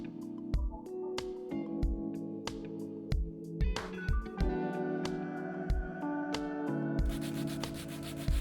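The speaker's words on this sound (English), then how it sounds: "I went back in with a sanding block and using 80 grit tried to tackle more of the stubborn adhesive" Sanding block with 80 grit paper scrubbing stubborn adhesive off an antique wood vanity, steady rasping rubs in a repeated back-and-forth rhythm, close and moderately loud with no talking.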